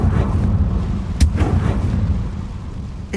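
A Confringo fire spell blasts in the Hogwarts Legacy video game, giving a heavy rumbling boom with a sharp crack about a second in, then a sustained low roar that slowly fades.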